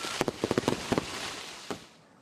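Fireworks bursting in the sky in a rapid cluster of sharp cracks and pops, followed by one more distinct bang and a fading rumble, heard alone with no voices.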